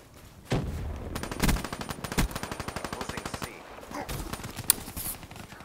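Rapid automatic gunfire from a close-range weapon in the video game Black Ops 3, with several loud sustained bursts of machine gun fire and scattered single shots across a busy combat soundscape.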